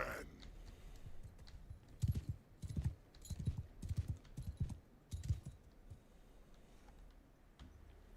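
Horse hooves clop in clustered bursts in a Bannerlord battle, a galloping rhythm rising and fading over faint background noise, with some speech around it.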